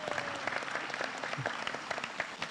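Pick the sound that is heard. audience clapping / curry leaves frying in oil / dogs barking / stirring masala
audience clapping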